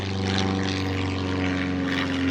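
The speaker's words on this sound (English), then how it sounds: "There's an airplane." A propeller airplane drones overhead, its steady buzzing engine tone loud and constant for the whole moment with no other sounds.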